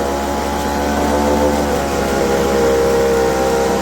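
An old, long-unused two-stroke leaf blower with a diaphragm carburetor runs loud and close, its buzzing engine held at a steady high drone that swells slightly as it revs.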